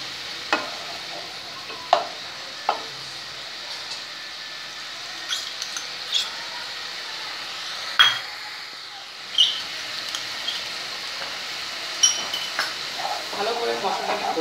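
Ginger, garlic and green chili paste sizzling as it is stirred in a pan for a yogurt bhetki fish curry, a steady soft frying hiss broken by sharp spoon scrapes and clicks against the pan.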